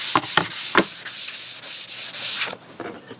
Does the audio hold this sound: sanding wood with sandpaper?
yes